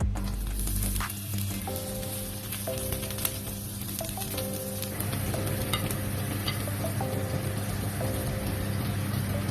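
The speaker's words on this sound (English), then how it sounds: "We are using chili oil. And then onions." Onions frying in hot chili oil for home-style sweet and sour fish, giving a steady loud sizzle throughout with faint clinks of a utensil stirring in the pan.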